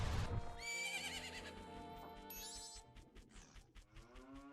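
Epona the horse neighing in the video game Majora's Mask, one loud whinny with a quavering rise and fall, then snorting breaths and soft clip-clop hoofbeats, with a faint in-game musical tone behind.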